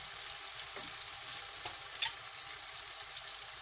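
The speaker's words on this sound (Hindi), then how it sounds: "ये हमारे टमाटर भून गए, मैं इसमें थोड़ा सा पिसा हुआ गरम मसाला डालूंगी" Tomatoes frying with ground garam masala for a stuffed bitter gourd and minced meat dish, a steady soft sizzle under a few faint stirring scrapes and one brief clink, with no voices.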